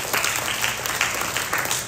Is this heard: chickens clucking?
no